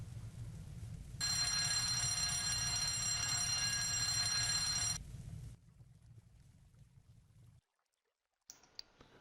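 A fire alarm in a virtual medical school building rings loudly and steadily for about four seconds over a low rumble. It then cuts off, leaving quieter background noise and a short silence before a brief tone at the end.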